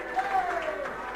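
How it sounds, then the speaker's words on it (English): Applause from spectators and ground safety officers as rugby league players leave the field at an Oldham versus Toulouse Olympique match, a diffuse crowd patter under a commentator's voice. "Even the ground safety officers applauding them off the field"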